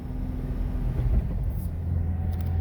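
A 2005 Jeep Wrangler TJ with a six-speed manual crawling in low four through deep snow, heard as a low, steady engine rumble and drivetrain drone from inside the cab.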